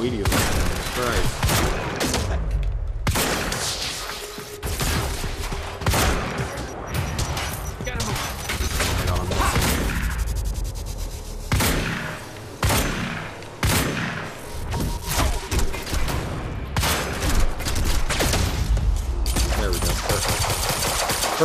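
Sustained gunfire from the Quantum Break video game, dense bursts of shots and impacts repeating loudly throughout, mixed with crashes and people talking over the action.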